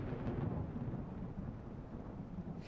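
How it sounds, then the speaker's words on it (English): A thunderstorm in Microsoft Flight Simulator 2024, a continuous low rumble of thunder and steady rain wash, dense and even throughout, moderately quiet with no talking. "I'll turn it up so you can hear the thunderstorm"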